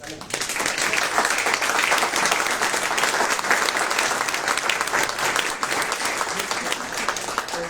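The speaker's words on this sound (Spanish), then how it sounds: "un aplauso otra vez para Lalo." An audience at a book presentation bursts into sustained, dense applause that stays steady and loud throughout.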